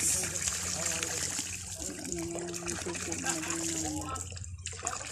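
Water runs steadily from a newly built spring well, a continuous close flow heard under people talking nearby.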